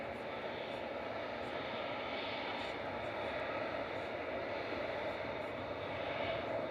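Airliner engines roar steadily at a busy airport, a broad continuous rumble and hiss holding at the same level throughout with no voices.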